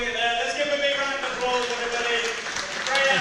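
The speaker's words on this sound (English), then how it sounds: "Big round of applause there for Perry Goode" Applause rings out for a junior strongman lifter at a natural strongman record-breaking event, steady clapping from a crowd mixed with voices and cheers.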